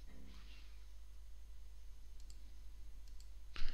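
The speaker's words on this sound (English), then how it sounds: "So I'll click install." A single mouse click sounds near the end of a quiet stretch of room tone while installing media center software onto an SD card for a Raspberry Pi.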